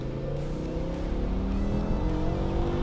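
A BMW E60 M5 V10 revs hard through second gear toward a 7,500 rpm shift, a loud, steady, rising engine howl heard from inside the car with no talking.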